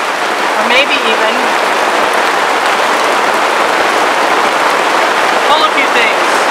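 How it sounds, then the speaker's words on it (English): Steady rain falls in a continuous, even hiss of drops pattering on a surface, filling the whole stretch at a consistent level, with a brief voice surfacing twice in the background. "Hello, rain."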